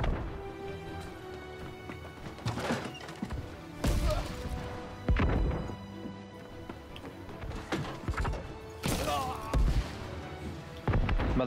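Cannons firing during a large Syndicate versus Covenant war battle in the New World game, with repeated loud booming blasts and crashes spread through the scene amid constant battle noise, while players talk over it.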